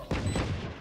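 A short burst of gunfire in a shooter video game, a sharp close blast that rings briefly and fades.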